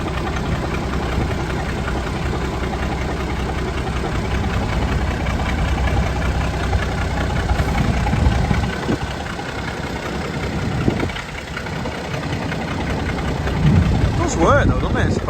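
A Massey tractor engine runs steadily nearby, a rough low idle with some knocking and vibration throughout, with people talking over it.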